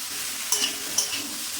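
A spoon stirs cauliflower and potato posto curry with ginger paste in a pan, two quick scrapes against a soft steady sizzle, close and fairly quiet.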